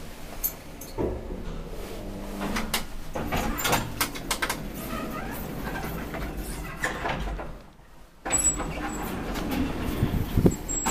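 Old Kone traction elevator built in 1987, in a Helsinki shopping center, with its doors sliding and the car rumbling: steady mechanical hum and clatter, a brief near-silent pause, then a louder rush of motor and door noise.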